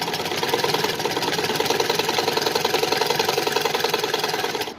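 A sewing machine runs steadily through a simple straight seam on fabric for a small summer dress, a continuous fast mechanical whir with rapid even stitching, close and loud throughout with no talking.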